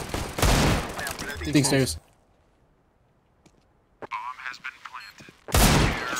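Rapid bursts of CS:GO gunfire in a match, sharp close volleys at the start and again at the end with a quiet gap between, players talking over the shooting.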